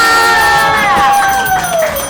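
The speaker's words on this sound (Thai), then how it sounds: "ขอเสียงปรบมือกับยุกิไหทองค" An audience at a live brand-day stage show cheers loudly, with high whoops and a sliding shout ringing out over a dense crowd roar.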